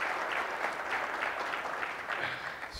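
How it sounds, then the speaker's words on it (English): Audience at a business fireside chat giving a round of applause, steady clapping from a modest crowd, fairly distant and faint, with no talk over it. "Let's give him a round of applause for that."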